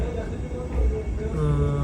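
Vande Bharat Express train slowing into Manmad Junction railway station, heard from inside the coach as a steady low rumble and rolling noise with some tonal squeal, with faint voices in the background.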